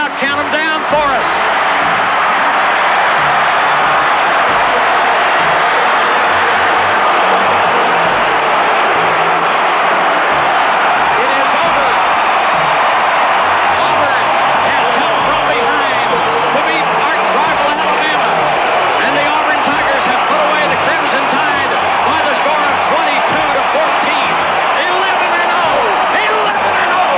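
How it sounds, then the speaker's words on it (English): A stadium crowd at the 1993 Auburn versus Alabama college football game roars continuously and loudly through the final seconds, a sustained wall of chanting and cheering voices. "Let's let the crowd count them down for us."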